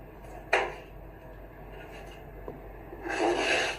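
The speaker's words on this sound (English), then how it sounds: "would you hear a tomato being gutted on the chopping board?" A knife cuts through a tomato on a chopping board, with a soft wet rasping slice, a sharp tap as the blade meets the wood, then a longer scraping cut near the end, all close up and alone.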